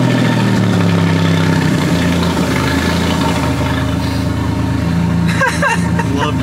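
A turbocharged Ford F-150 engine idles steadily throughout, a constant low rumble with a faint whine, while people talk over it.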